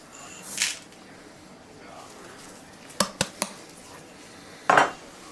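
Peppercorns drop into a pot of turkey brine as a few quick, sharp clicks in close succession, followed a moment later by a louder brief clatter against the pot, with quiet room tone around them.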